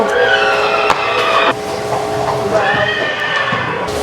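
A pony whinnies loudly and clearly at a horse show stable, a drawn-out neigh with wavering pitch over steady background noise.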